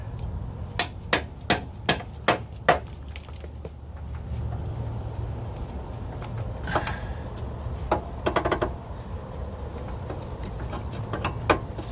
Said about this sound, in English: you may need to hammer it since it's so rusted on there.